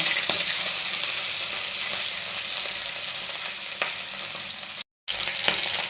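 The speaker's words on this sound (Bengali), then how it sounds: "মাছের মাথাগুলো ছোট ছোট করে কেটে রেখেছে সেগুলো দিয়ে দিলাম এবার মাথাগুলো ভেজে নেব" Hilsa fish heads fry in hot oil with mustard seed in a pan, giving a steady close sizzle with small spits and crackles throughout and no talk over it.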